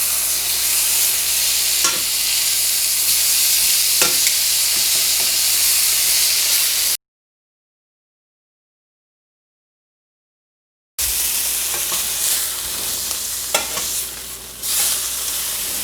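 Steak searing hard in a skillet, a loud continuous sizzle with occasional pops and utensil taps, broken by a few seconds of total silence before the frying returns.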